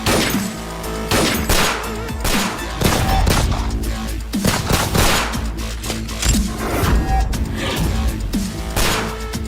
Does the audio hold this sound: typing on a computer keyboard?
no